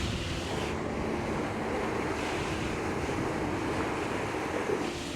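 Steady rushing wash of open-ocean waves, about 1.5 metres, on a sailboat bound for Antigua, with water spraying over the bow and wind noise buffeting the microphone; a continuous, fairly loud roar throughout, with no talking.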